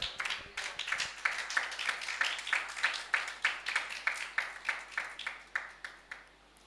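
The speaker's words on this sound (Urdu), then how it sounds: "کلیسیا یسوع مسیح کے لیے تالیاں بجائیں" A church congregation at a Sunday service claps for Jesus, a steady rhythmic beat of many hands at moderate volume, with some loose clapping at the start.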